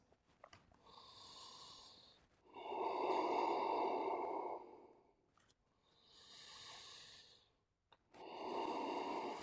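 Slow, deep yoga breaths in downward dog, with long audible inhales and exhales following one another in a steady rhythm. The breaths are close and soft against quiet surroundings, with no talking.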